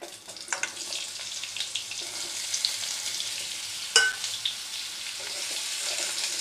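Potatoes and pointed gourd fry in a pan over medium flame, giving a steady close sizzle with occasional stirring scrapes and one sharper knock.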